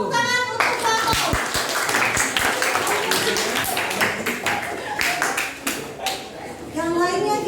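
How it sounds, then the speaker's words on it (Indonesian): A classroom group claps for a team during a teaching session, steady loud mixed clapping from several people lasting the whole stretch, with voices and chatter blended in and a louder voice at the start and end. "Beri tepuk tangan untuk Pak Om"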